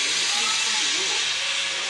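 Steady, loud hiss of escaping steam from the steam return beneath locomotive 6040, continuous and close, with no break over the two seconds.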